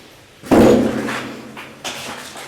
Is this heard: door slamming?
yes